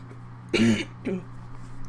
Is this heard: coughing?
yes